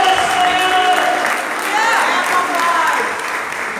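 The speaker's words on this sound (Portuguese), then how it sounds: "Você pode aplaudir ao Senhor?" A church congregation at a Pentecost sermon claps together in loud, sustained applause, a dense roar of hands with voices and cheers mixed in, while worship music tones carry underneath.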